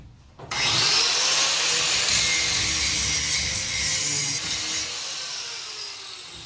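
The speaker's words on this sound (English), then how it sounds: "I have to grind this." A power tool grinds metal during a bus conversion, starting abruptly and holding a loud, sustained, harsh whine that fades slightly toward the end.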